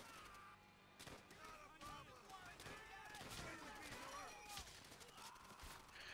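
Dense explosions and bursts of gunfire from the WWII shooter Call of Duty: World at War rattle continuously, with repeated sharp blasts and crackling shots under a voice talking over the battle.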